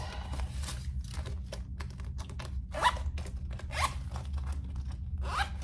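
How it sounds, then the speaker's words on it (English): Zippers on a sewn fabric travel jewelry case are run back and forth repeatedly, giving a series of close, crisp ratcheting zips over a low background hum. "Test our zippers."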